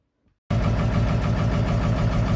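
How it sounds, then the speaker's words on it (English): A 7.3 Powerstroke diesel engine fires after a brief crank and settles into a loud, steady, rough diesel idle, close up with no talking. "Let's see if it'll start."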